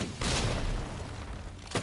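Explosions and gunfire in the video game Dead Rising Deluxe Remaster: a dense, loud barrage of booms and blasts, with a burst at the start and another right at the end.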